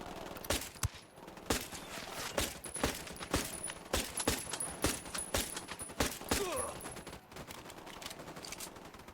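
Rapid volley of gunfire from a squad firing together in the tactical shooter Ghost Recon Wildlands, dense overlapping shots cracking repeatedly for several seconds at steady loudness with no talk.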